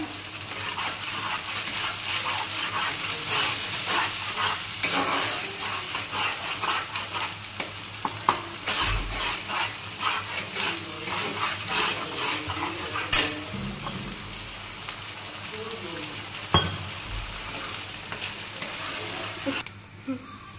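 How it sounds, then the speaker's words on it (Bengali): Spice masala with turmeric, salt and a little sugar fries for pabda fish bhuna, a continuous close sizzle and crackle broken by stirring scrapes and occasional clinks of a utensil. "এই যে আমার মশলাটা ভাজা হয়ে গেছে।"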